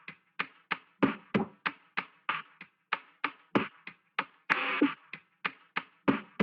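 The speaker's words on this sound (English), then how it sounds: "the last thing that's like actually important is this percussion loop," A percussion loop in a hip-hop beat plays alone, with crisp tapping hits at a steady, quick rhythm and a few louder, fuller accents mixed in.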